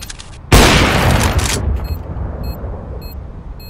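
Counter-Strike (CSGO) match on the Iris map with a planted bomb: a sudden loud blast or burst of gunfire, then regular high electronic beeps from the bomb ticking steadily through the rest.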